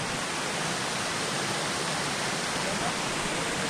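Small woodland creek along the Pinhoti Trail near Porter's Gap, its water rushing in a steady, dense broadband hiss recorded up close from a rock, continuous and unchanging with no voices.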